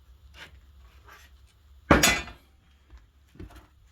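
A hammer strikes a pipe to knock a part out of a minibike during a rebuild, giving one loud sharp metallic whack in a quiet workshop, preceded and followed by faint small knocks and handling noises.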